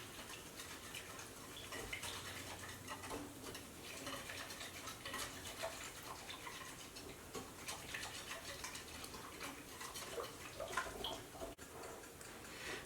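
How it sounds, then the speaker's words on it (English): Whisk stirring German potato dumpling mix into cold water in a bowl: continuous soft, quiet swishing and light ticking against the bowl, steady and low in level throughout. "you're just going to use a whisk. And you're going to mix it real well"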